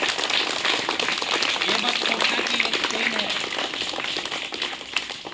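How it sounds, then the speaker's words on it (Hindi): An audience at a school prize-giving for class 1 to 5 results claps steadily for a winner receiving a pen, a continuous patter of many hands under a voice speaking over it. "जोरदार ताली से स्वागत कीजिए जी"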